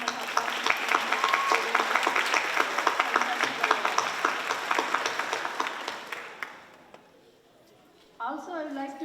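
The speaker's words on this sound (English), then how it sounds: "Please give a big round of applause." Applause from an audience at a Kuchipudi dance recital, a dense, sustained wash of many hands clapping that fades away toward the end, followed briefly by a voice speaking.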